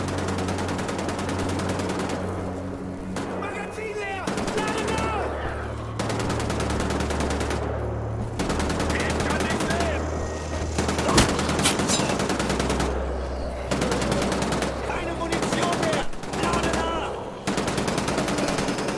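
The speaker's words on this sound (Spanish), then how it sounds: "¿A qué le están disparando?" Sustained automatic gunfire and bursts of shooting from the Wolfenstein: The Old Blood video game, loud and nearly continuous, with brief pauses between volleys.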